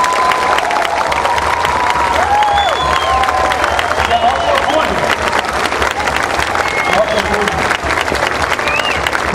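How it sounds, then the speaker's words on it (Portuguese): An audience applauds the municipal band of Pirinim, a dense, sustained wash of clapping from a large crowd, with voices and some cheering mixed in. "Eu queria muito que vocês aplaudissem a banda municipal de Pirinim"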